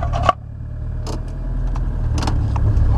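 An old car's engine is started with a broken key. A short jangle of keys comes first, then the engine catches and settles into a steady, rough idle, close and continuous, with small rattles over it and no talking.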